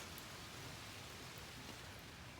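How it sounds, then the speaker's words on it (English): Steady rain falling at a fall campsite, an even, continuous hiss of drops with no pauses, faint and diffuse, with no voices. "Stupid rain."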